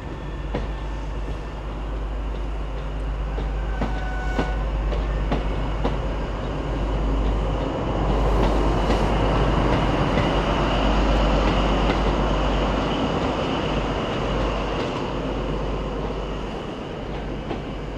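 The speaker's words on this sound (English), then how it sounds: "A modern First Great Western high-speed train arrives. And departs" A modern First Great Western high-speed train arrives and departs, a continuous heavy rumble and roar of wheels and engines holding steady throughout at close range.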